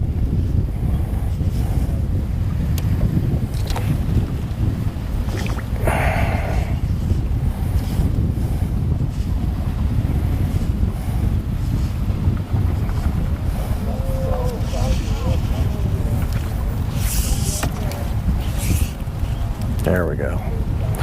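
Wind gusts buffet the microphone while fishing from a boat on open water, a continuous rushing roar with faint water movement beneath, and a person talks intermittently.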